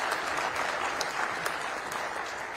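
A conference audience claps steadily for a panel and its moderator, a dense, even wash of applause heard from a moderate distance throughout.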